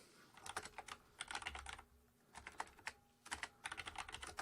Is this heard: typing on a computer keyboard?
yes